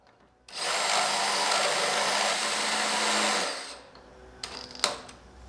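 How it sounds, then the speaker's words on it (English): A Dremel rotary tool grinds steel during a Viking sword build, a loud, steady high-pitched whine running for about three seconds before cutting off, followed by a few faint clinks and a short sharp tap. "I have to keep using the Dremel"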